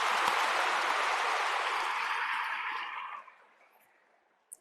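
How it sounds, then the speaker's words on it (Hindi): An audience at a talk applauding loudly as a dense wash of clapping that holds for about three seconds, then fades quickly into near silence, with one brief knock near the end. "मैं चाहता हूं एक बार अपने सम्मान में तालियां बजा लें।"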